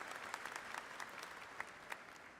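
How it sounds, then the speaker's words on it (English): A commencement crowd at Southern Illinois University claps for an event organizer, quiet, fairly distant applause with a few sharper individual claps standing out from the steady patter. "Let's give Sarah a big round of applause."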